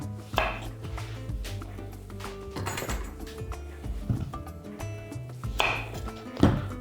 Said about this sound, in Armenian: Մյուս բաղադրիչը ցուկինին է։ Կտրատում ենք նույն կերպ։